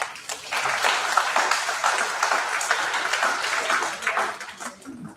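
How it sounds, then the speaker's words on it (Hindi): An audience at an expert lecture on climate change claps to welcome the speaker, a dense steady round of applause that holds for several seconds and thins out toward the end. "And we can all join in अपनी तालियों के साथ।"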